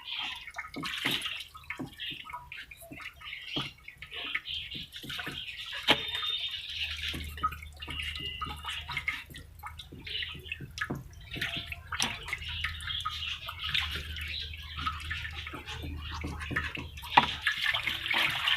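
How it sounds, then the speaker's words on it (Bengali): Running water from a tap pours and splashes steadily while a large cut bhangan fish is washed by hand, with scattered drips and sloshes close by and no voice. "এখন এই মাছটা আমি ভালো করে ধুয়ে নেবো"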